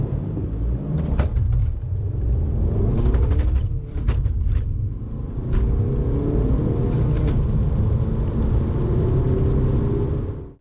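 A Volkswagen Golf GTD with 120,000 miles accelerates hard from a launch, its engine rumble heard from inside the cabin, steady and loud with brief dips at gear changes and no talking.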